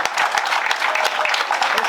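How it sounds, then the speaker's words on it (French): An outdoor audience applauding rally drivers at a podium ceremony, a steady wash of many hands clapping at close-to-moderate distance with a voice over it. "Applaudissements"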